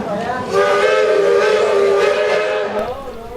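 A loud, sustained steam train whistle sounds for about three seconds, its rich harmonic tone holding steady before cutting off.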